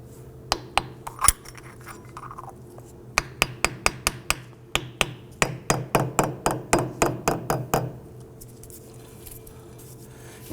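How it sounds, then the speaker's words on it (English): Dust cap being tapped onto the rear wheel hub of a 2008-2011 Ford Focus, heard as sharp metallic taps, first a few scattered, then rapid regular runs of about twenty close strikes before stopping. "we'll go ahead and pop on our center cap"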